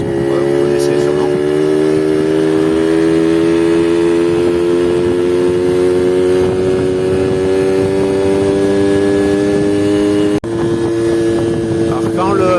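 A Yamaha Chappy LB50 moped's small 50cc engine runs loud and close, holding a steady high buzzing drone throughout with a brief dip near the end.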